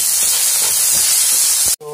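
Onion with ginger-garlic paste frying in a pan, making a loud, constant hiss close by that cuts off abruptly near the end.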